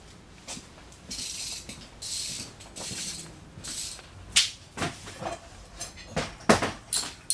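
A ratchet works spark plugs out of a 1964 Chevrolet Impala engine, giving close, irregular metallic clicks and rasping pulls, with scattered sharper clacks as the tool is turned and repositioned.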